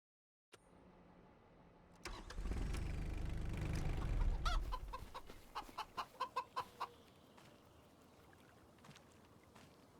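Chickens in a coop in the farming game Farming Simulator 25: a burst of rushing noise, then a run of short, evenly spaced clucks, fairly close, that fades out.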